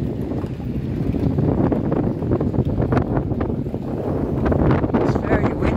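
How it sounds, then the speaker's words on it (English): Strong wind buffets the microphone with a continuous low rumble and gusty roar outdoors near the water and a construction site, and a voice talks faintly under it. "It's very windy"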